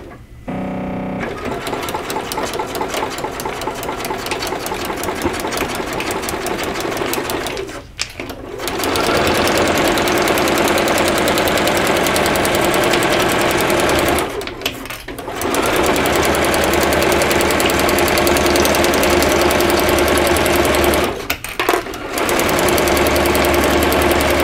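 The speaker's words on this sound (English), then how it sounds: "We are sewing through plastic." Sewing machine stitching through a plastic feed sack, a loud, steady motor whir in long runs broken by three brief pauses, close and continuous with no talk.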